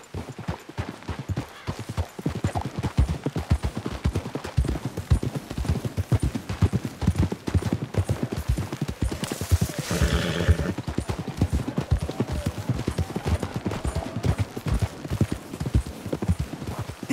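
Horses in Red Dead Redemption 2 trot along with steady, rhythmic clip-clop of hooves throughout, fairly close, joined midway by a brief snort or whinny.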